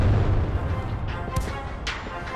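Cannon fire from the Panhard EBR 75, a French wheeled armored car in a tank video game: dull booming shots with sharp crack transients, repeated over a constant rumbling engine and battle bed.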